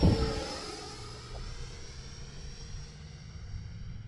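Fly Fans K-8 Red Falcon 6s electric ducted-fan model jet passing in flight, a faint whooshing whine that swells briefly and then fades into a steady distant hiss.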